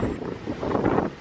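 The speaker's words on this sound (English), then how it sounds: "It's hecka windy here" Strong wind buffets the microphone outdoors in gusty, roaring bursts for just over a second, loud and close with no talk.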